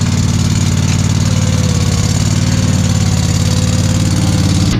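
A Scag lawn mower engine runs loud and steady just after a cold start, a constant close droning rumble with no talking over it.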